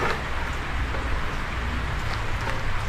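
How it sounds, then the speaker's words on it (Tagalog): Rain falls continuously in a loud, close, broadband rush of patter and hiss on a surface, steady from start to finish, with no speech. "Umuulan"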